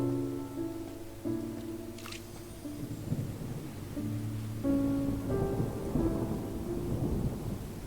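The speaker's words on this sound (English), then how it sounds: "When is this rain going to stop?" In the Genshin Impact video game, rain falls steadily and thunder rolls, while a soft musical tone sustains underneath the stormy weather.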